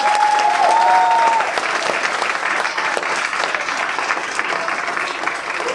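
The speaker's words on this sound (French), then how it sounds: "on peut applaudir l'Institut public de Montblanc" Applause from a crowd at a concert thanking the Institut public de Montblanc: dense, continuous clapping that is loud at the start and eases slightly, with a brief whistle-like tone early on.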